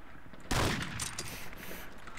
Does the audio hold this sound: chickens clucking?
no